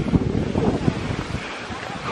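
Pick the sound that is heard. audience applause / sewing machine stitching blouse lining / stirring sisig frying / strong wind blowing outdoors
strong wind blowing outdoors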